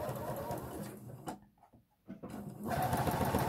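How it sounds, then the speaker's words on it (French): A sewing machine stitches bias binding onto a neckline in close, steady rapid whirring runs, with a short pause in the middle before the stitching resumes. "Je couds toujours."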